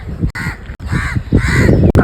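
Loud, close crows cawing repeatedly in a dense flock, harsh overlapping calls filling the scene with brief gaps between bursts, no talk.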